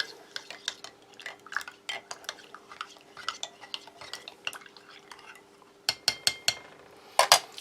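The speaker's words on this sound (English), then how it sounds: "Give that a stir." A spoon clinks and scrapes against a cup while stirring coffee from an old U.S. military C ration, irregular taps that speed up into a rapid flurry of sharp clicks near the end.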